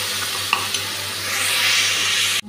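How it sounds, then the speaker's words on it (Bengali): Spice paste frying with onion and green chili for a katla fish curry, a loud continuous sizzle with a couple of stirring scrapes near the start, swelling toward the end before cutting off abruptly, no voices. "মশলাটা খুব ভালো করে ভেজে নিয়েছি, দেখুন।"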